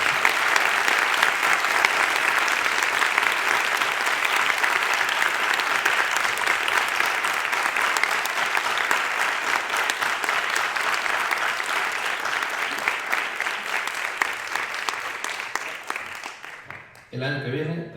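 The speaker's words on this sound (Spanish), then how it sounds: "le vais a dar un gigantesco aplauso a esta mesa" Audience at a festival panel on art in video games giving a long, loud burst of clapping, a dense, even roar of many hands that holds steady and then tapers off near the end.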